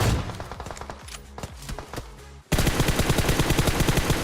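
Gunfire in the mobile game PUBG Mobile: scattered single shots, then a sustained rapid automatic burst that grows loud and dense.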